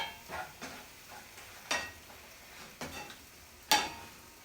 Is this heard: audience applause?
no